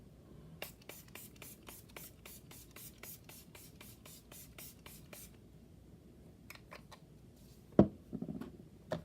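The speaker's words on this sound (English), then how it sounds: "I'm going to set my face with the Milani Make It Last" Milani Make It Last setting spray misted onto a face: a quick run of about twenty short, rhythmic pump-spray bursts, then a few scattered sprays and faint handling noises, close and quiet.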